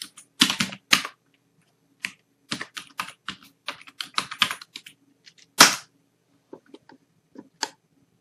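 Keys clatter on a computer keyboard during a Synology DS918+ NAS setup, with short bursts of close, crisp taps separated by pauses and one louder keystroke near the middle, alone without talk.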